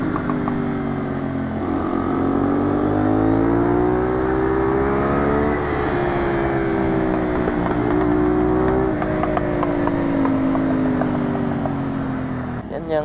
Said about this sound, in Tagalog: Tingnan nyo yung arangkada ng GPR